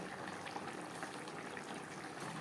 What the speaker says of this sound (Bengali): চার পাঁচ মিনিট রান্না করব গ্রেভির সাথে